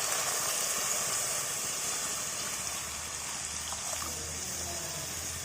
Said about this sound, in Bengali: আমরা এবার দিয়ে দিচ্ছি এর মধ্যে জল